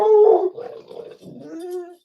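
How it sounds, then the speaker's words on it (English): A single dog gives a loud, close, drawn-out howling bark that trails into whining, tonal cries, heard alone. "He barks at that moment"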